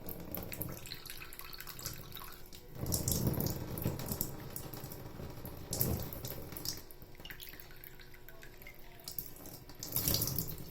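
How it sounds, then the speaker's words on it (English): Water from a tap slowly pouring onto a hand holding detergent, a soft continuous splashing stream that swells and fades in waves, fairly quiet. "So here I have the detergent in my hand and some water slowly pouring"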